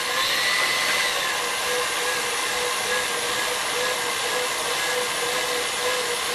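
Electric stand or hand mixer running at speed 8, whipping egg whites for a cake, a steady loud whirring motor drone held unbroken throughout with no pauses.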